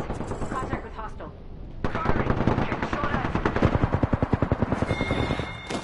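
Automatic gunfire rattles through a squad shootout in a video game. Rapid bursts of close, loud shots build into a long continuous volley.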